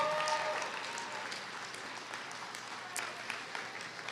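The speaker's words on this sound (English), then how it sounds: "let's give them a round of applause" Steady audience applause fills a nursing school pinning ceremony hall, an even wash of clapping from a large crowd that holds for the whole stretch without fading.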